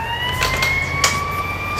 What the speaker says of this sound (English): I switched the siren back to the normal one, so let's go.